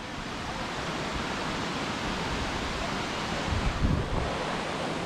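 The Suuçtu waterfall near Mustafa Kemal Paşa and Susurluk, Balıkesir, heard as a steady, dense roar of falling water that fills the whole clip at an even, loud level.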